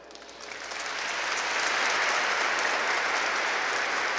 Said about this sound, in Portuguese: Merecem o nosso aplauso.